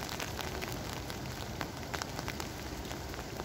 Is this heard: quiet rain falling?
yes